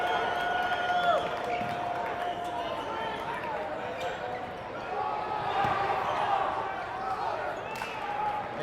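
A crowd at a boys varsity high school basketball game between Clarkston and Wayne Memorial cheers after a slam dunk, a broad sustained roar with sneaker squeaks and a commentator talking over it.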